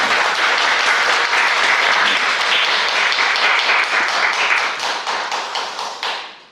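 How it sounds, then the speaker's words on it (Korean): A church congregation at a Sunday worship service bursts into loud, dense applause in welcome, the many hands thinning into scattered individual claps before fading out. "박수로 환영합니다."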